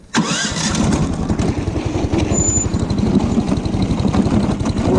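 A Snowdog motorized sled engine starts abruptly and settles into a loud, steady, chugging idle on choke, running close by with a rapid regular pulse and no talking.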